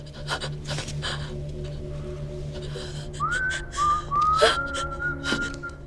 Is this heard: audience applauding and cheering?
no